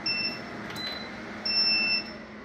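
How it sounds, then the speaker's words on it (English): A Xijia SWI Power 3000 watt 12 volt power inverter gives its overload warning: two shrill electronic beeps, the second longer, sounding over a low steady hum. "it started beeping, letting you know that you had went above those 3000 watts"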